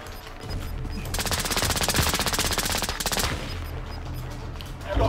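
Rapid bursts of sniper rifle and automatic gunfire in a shooter video game, a dense volley of sharp shots filling the middle of the clip over steady game ambience.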